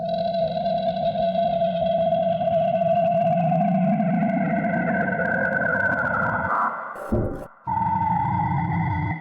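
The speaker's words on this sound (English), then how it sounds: "some distortion to add harmonics, and a frequency shifter" A heavily processed synth tone made from a Mars planet-sound sample, with distortion and a warbling frequency-shifter sweep, sustained and loud, briefly breaking up near the end before resuming.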